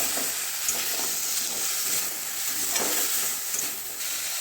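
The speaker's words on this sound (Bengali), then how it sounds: "এরপরে আমি ভাজা আলুগুলো দিয়ে একটু কষবো" Fried potatoes sautéing with spice paste in a pan for a coconut dalna, a steady loud close sizzle with soft periodic stirring scrapes throughout, no voices.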